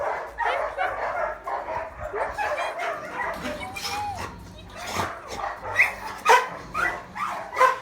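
Several dogs bark, yip and whimper close by in a kennel in an excited, overlapping chorus, with a person talking among them.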